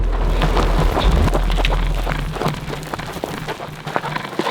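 Hail pelts down on Hope Pass, a mountain trail during the Leadville 100 ultramarathon, as a dense, steady patter of scattered hard ticks over a low, blustery wind rumble that eases slightly toward the end.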